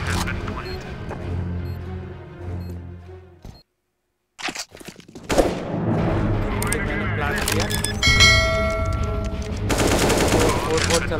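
Shooting on the Dust 2 map in CS:GO, with bursts of rapid fire and sharp cracks, a short silent gap near the middle, then more loud shots layered over ongoing game sounds.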